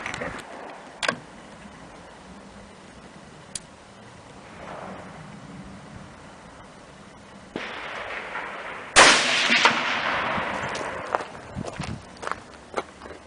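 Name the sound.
rifle shots from a Savage Axis in .243 Win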